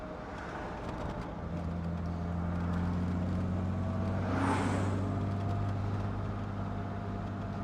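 A 1970 Jaguar E-Type S2 open two-seater cruises along a rough road, its engine a steady drone with road and wind rumble, heard from inside the car at a constant moderate level.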